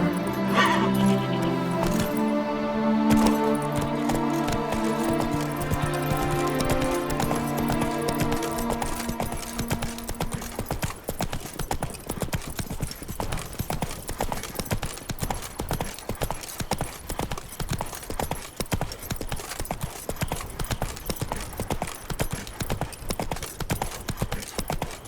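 Roach, the horse in The Witcher 3, gallops with rapid, steady hoofbeats throughout. A loud, tonal whinny and game sounds come first, then the hoofbeats carry on alone.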